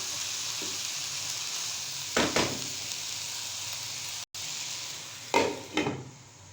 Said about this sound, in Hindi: हम डालकर इसको 2 मिनट तक दम वाली आंच पे पकाएंगे।